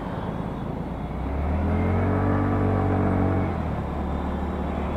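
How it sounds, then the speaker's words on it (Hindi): TVS Ntorq BS6 scooter exhaust rumbles close by with a deep, bassy tone, swelling louder in the middle as the engine revs, then easing back. "इसके एग्जॉस्ट में थोड़ा सा ज़्यादा बेस है।"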